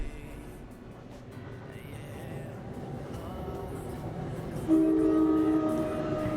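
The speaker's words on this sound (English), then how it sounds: "There's another train." A train rumbles past in the Trainz TRS19 railway simulator, a low rolling drone that swells steadily, then a sustained horn-like tone sounds near the end, with no talk over it.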